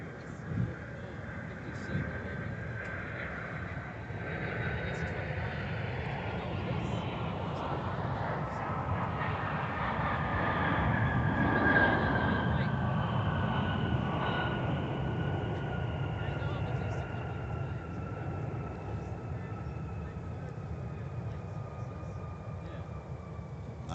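Wide-body airliner at MSP airport, a broad distant jet roar swelling and fading over about twenty seconds with a faint high whine sliding across it, heard outdoors amid background noise.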